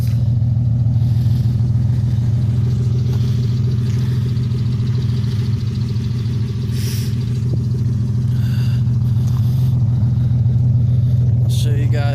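A Lexus SC300 engine with a Blitzner Spec R exhaust idles steadily nearby with a deep, throaty exhaust rumble that holds constant throughout, no talking.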